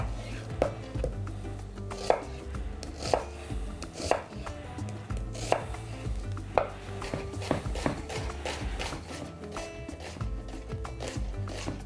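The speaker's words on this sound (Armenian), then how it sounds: "Երկրորդ սոխը մանրացնելու ենք, այսինքն մանր կտրատելու ենք" An onion finely chopped with a knife on a wooden board, a run of sharp, close knocks at a brisk, fairly regular pace over several seconds, loud and clear with no talk.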